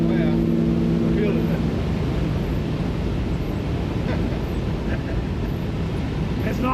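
A 1964 Chevrolet Chevelle cruising on the road, its steady low engine drone and road rumble filling the cabin continuously, with wind noise and a few brief higher tones riding over the top.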